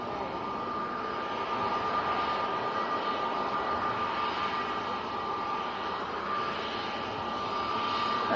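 A KLM airliner at Manchester Airport produces a steady, sustained jet engine roar with a faint high whine, moderately distant and constant throughout, with no talking.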